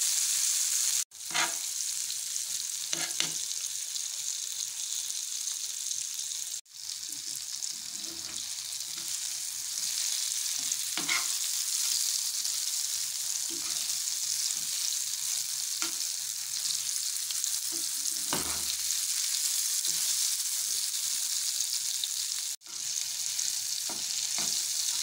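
Green chillies frying in a pan give a steady, loud sizzle that runs the whole time, broken by a few brief stirring scrapes and clinks and three short dips in the hiss.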